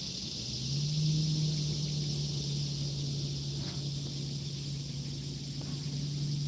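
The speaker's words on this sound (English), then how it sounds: "Sounds like there's a boat coming." A motorboat engine approaching: a low, steady drone that swells slightly early on and keeps humming from a distance over faint outdoor background noise.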